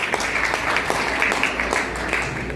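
Audience applause for a student at a school prize-giving, a dense, steady patter of many hands clapping at moderate loudness throughout.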